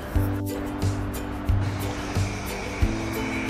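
Water runs steadily from a tap during handwashing, a broad continuous hiss over a low droning hum with faint periodic thumps, close and moderately loud, with no talking.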